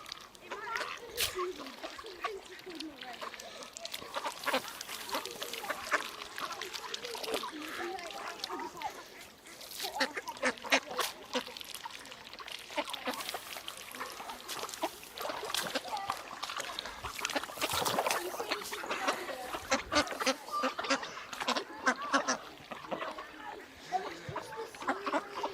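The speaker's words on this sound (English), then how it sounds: "they look like some of this year's ducklings growing up." Ducks and young ducklings of this year by a river, with soft quacks and splashing water mixed through a steady outdoor wash for the whole stretch, under ongoing background talk.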